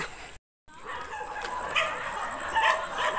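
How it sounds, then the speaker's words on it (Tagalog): Several dogs barking at a rural family home in the Philippines, a few sharp yaps rising over a steady outdoor background, moderately close, with no talking. "Ang dami nilang aso."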